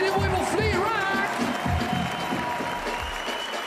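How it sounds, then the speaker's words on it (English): A crowd at the Red Bull BC One 2023 World Final breaking battle in Paris claps and cheers steadily, a dense, loud wash of applause with scattered whoops and a voice calling over it. "You can feel the crowd starting to warm up"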